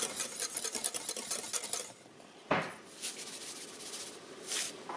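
Salted, peppered and nutmeg-seasoned food is stirred in a still-hot pan after the heat is turned off, giving quiet scraping and clinking of a utensil against the pan in short bursts.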